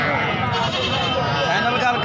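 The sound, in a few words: goats bleating at livestock market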